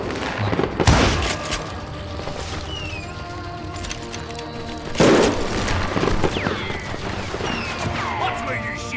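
Gunfire in the Western shooter game Call of Juarez: Gunslinger, with two heavy volleys of shots and ricochets over busy game sounds, while voices speak throughout.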